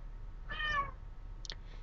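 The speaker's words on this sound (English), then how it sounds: "My cat's meowing." A pet cat gives one drawn-out meow, faint and indoors over a low steady hum, then a brief chirp-like call shortly after.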